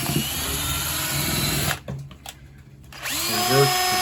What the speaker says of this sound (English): Reverse the drill